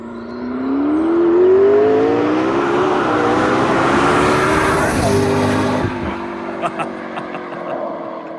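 Heard from inside the cabin, a McLaren P1 accelerates hard at high speed on the Autobahn, its engine note climbing loudly through rising revs with turbo rush and wind roar, then easing off after a shift, under muffled talk.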